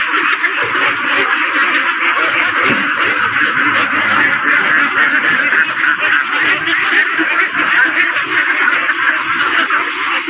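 A crowded poultry market where ducks are being caught and loaded: a dense, loud, continuous chorus of quacking and honking from many ducks and geese, steady throughout with no pauses.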